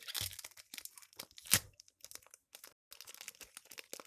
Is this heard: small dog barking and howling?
no